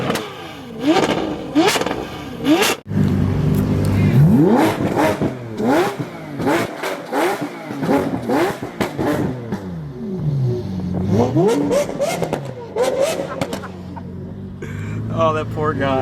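A Lamborghini Aventador V12 engine revs hard again and again, each loud rising howl dropping back with pops, with occasional voices nearby.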